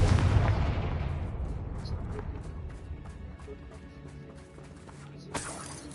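In the game Hogwarts Legacy, a Confringo explosive spell goes off as a heavy close blast whose boom rolls and fades over several seconds, leaving a thin crackling tail and one small late pop.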